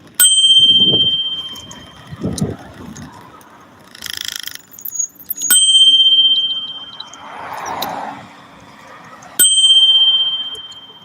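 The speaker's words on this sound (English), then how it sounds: "Let's see if she hears the bell." A bicycle bell rings sharply several times with pauses between, bright and close, with brief voices and rustling in the gaps.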